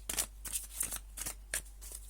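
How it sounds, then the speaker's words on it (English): Tarot cards being shuffled by hand, close and quiet, in a series of short riffling bursts repeated about every third of a second over a faint steady hum. "I'm just going to shuffle them again because I'm only looking for one more card"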